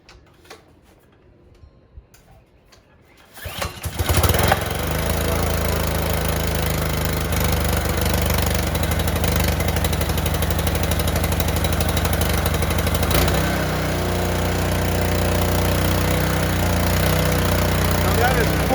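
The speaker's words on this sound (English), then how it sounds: "Let's start here with the Honda pressure washer." A Honda pressure washer engine is started from cold: quiet at first, then after about three seconds it catches and settles into a loud, steady small-engine run that holds evenly for the rest of the clip.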